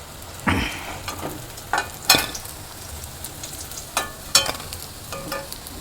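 Vegetable chops frying in hot oil, a soft bubbling sizzle under a series of sharp clinks and scrapes as pieces are lifted out one by one.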